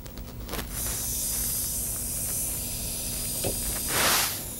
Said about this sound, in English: I hold it firmly and then I cool it off with a spray.